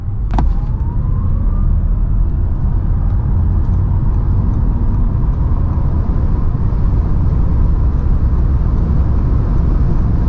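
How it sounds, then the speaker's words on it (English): Audi e-tron GT electric car accelerating hard from 100 to 200 km/h on the Autobahn, a steady loud road and wind roar with a faint rising electric whine, constant and close throughout with no talking. "Let's now see how fast the car goes 100 to 200."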